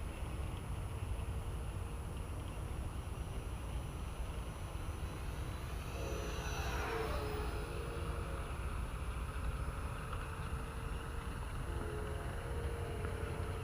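A Freewing Rebel V2 RC jet on a 4S 2700 battery at about 70% throttle gives a steady, faint ducted-fan whine and rush, swelling briefly as it passes closer midway, with wind noise throughout.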